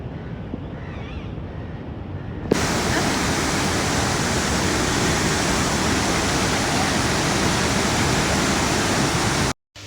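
After a short quieter stretch, a loud, steady roar of floodwater rushing through open flood gates takes over and holds constant until it cuts off abruptly near the end.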